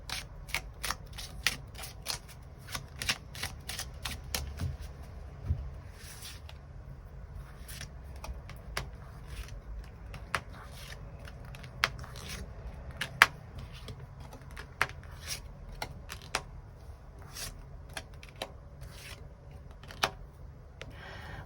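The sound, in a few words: tarot cards being shuffled and drawn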